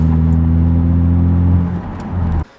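Manual-transmission car engine idling while warming up, a steady close hum with clear tonal harmonics that dips near the end and then cuts off abruptly.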